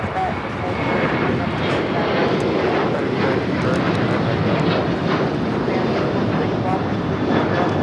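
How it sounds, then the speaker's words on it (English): A China Cargo Boeing 777 freighter touches down on the south side of Los Angeles airport, giving off a loud, continuous heavy-jet roar that holds steady throughout, with some talking mixed in. "a China Cargo 777 freighter touching down here on the south side"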